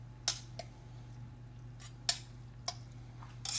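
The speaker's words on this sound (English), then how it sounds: "Stir it around here, let that sauce totally incorporate." Pasta being stirred into marinara sauce in a saucepan, producing a few sharp metallic clinks of a utensil against the pan, spaced irregularly over a steady low hum.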